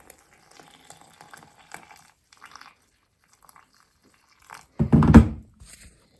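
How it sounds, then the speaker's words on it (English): Boiling water poured into a bowl of cocoa cake batter made with dark brown sugar, a single close splashy pour lasting about a second after quiet kitchen clatter. "To this, you are going to add 250 ml of boiling water."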